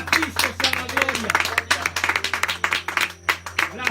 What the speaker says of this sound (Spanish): Dele un aplauso al Rey de Reyes, Señor de Señores